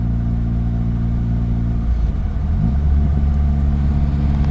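Car engine humming steadily under load, then its pitch shifts and rumbles as the gearbox drops down a gear mid-drive, close and loud with continuous road noise.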